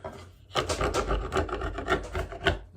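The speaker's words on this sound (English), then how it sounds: "we'll just clean up the bottom little glue squeeze out here" A scraper rasps across wood, lifting dried glue squeeze-out from the bottom of a clamped glue-up: a steady run of close, loud scraping strokes after a brief quiet start, with no talking.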